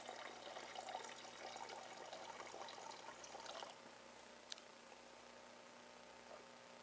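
Water pours steadily from a KitchenAid Superba refrigerator dispenser in a soft, hissing stream for a few seconds, then stops, leaving quiet room tone and a faint click.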